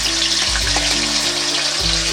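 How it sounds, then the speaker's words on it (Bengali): Ground spice paste fries in a wok for a vegetarian pointed gourd dish, making a loud, continuous close sizzle with a low bubbling rumble underneath. "মশলা যে বেটেছিলাম মশলাটা আমি কড়াই দিয়ে দেবো।"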